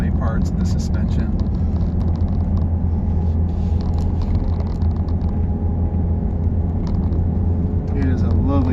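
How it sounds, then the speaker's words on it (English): Steady low engine drone of an FX GT while driving, a continuous rumble with road noise heard from inside, constant and fairly loud throughout, with a brief voice near the start. "The engine sounds great."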